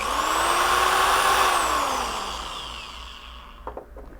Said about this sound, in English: First we'll start by drilling the hole